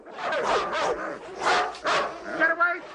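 Several dogs bark and yip in short bursts at close range, with whimpering mixed in, while a person speaks over and between the barks.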